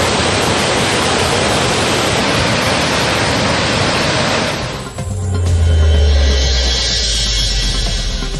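Floodwater gushing hard from a broken check-dam sluice on the Kaduvai river near Athur, a loud steady roar throughout, with a deep low rumble swelling in the second half.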